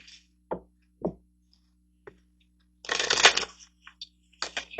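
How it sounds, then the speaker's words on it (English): Tarot cards being handled, with a few sharp, isolated taps and snaps followed by a brief flurry of shuffling riffles and a couple more quick card flicks, close and clear. "Just get a couple of portal cards over here for you."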